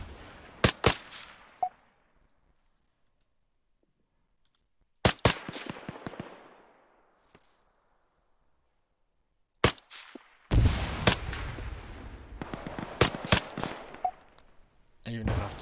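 Bursts of M14 DMR rifle fire in the Arma 3 video game ring out in separated clusters of sharp, loud shots with echoing tails, between stretches of near silence.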